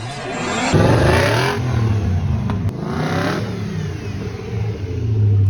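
A BMW E46 fitted with a V8 engine revs loudly up close, its deep roar swelling and holding across several seconds with a brief dip in the middle, and no talk.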